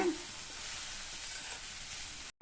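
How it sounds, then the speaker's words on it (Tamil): Shredded cabbage stir-fry with grated coconut sizzles on low heat as it is stirred, a soft continuous frying hiss close by, no voices, cutting off abruptly at the end. "தேங்காய் துருவலை சேர்த்து நல்லா ஒரு தடவை சிம்லேயே வச்சு மிக்ஸ் பண்ணி விட்டுருங்க."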